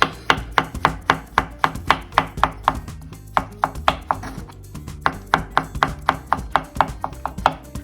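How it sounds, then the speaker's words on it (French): A knife chops vegetables into a fine brunoise dice on a board, producing steady, rapid, evenly spaced sharp taps close by, with a brief pause midway and no talking. "on va faire une petite brunoise, c'est-à-dire couper en petits dés."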